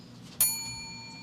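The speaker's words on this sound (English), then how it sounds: "So we can give a little bell." A single bright little bell ding, struck once and left to ring out with a thin sustained tone over faint room hiss, with no talking.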